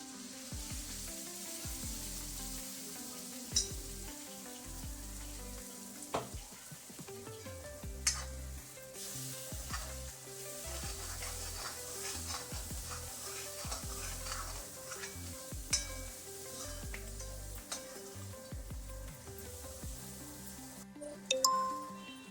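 Masala paste sizzles in a pan with sautéed garlic and ginger for a kingfish curry. Steady soft frying hiss runs throughout, with occasional utensil clinks and stirring scrapes, and no speech.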